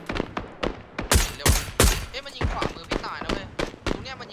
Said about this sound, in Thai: อันนี้ยิงกันอยู่แต่ก็ไม่สุด